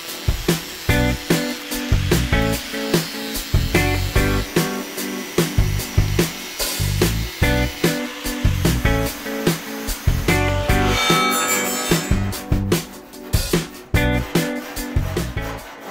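A power tool cuts an opening in a stainless steel sheet for a kitchen backsplash, with loud, rapid rhythmic buzzing and grinding bursts that continue almost without pause, close and harsh.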